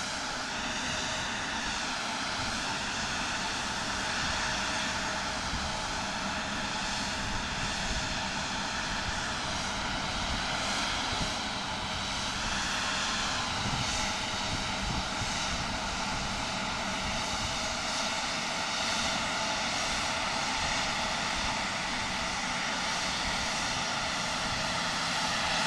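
ATR turboprop airliner at Portland International Airport, a steady, loud engine roar with broadband rumble and propeller whine that holds evenly for the whole stretch, with no voices.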